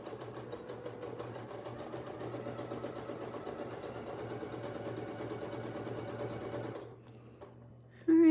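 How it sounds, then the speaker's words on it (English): A sewing machine stitches quilt blocks in a steady, fast, even run of needle strokes for nearly seven seconds, then slows and stops, leaving a short quiet stretch before a brief closing sound. "I think I want to sew with this side up so that I can manage this better"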